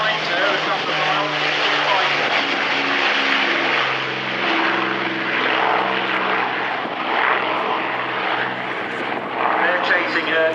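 An Avro Lancaster propeller aircraft flying past at an air display with its undercarriage down, a loud steady droning engine roar that holds throughout, with a commentator speaking over it.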